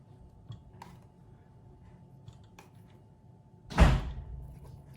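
A single loud door bang in a home kitchen during cake making, one heavy thud standing out against faint clicks and quiet background noise.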